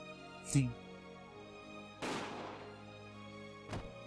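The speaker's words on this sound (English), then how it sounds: "That had followed the dull sound of another gunshot." A dull gunshot from the Higurashi video game, a single sharp report followed by a second broad blast and a brief thump, fairly quiet over a low background.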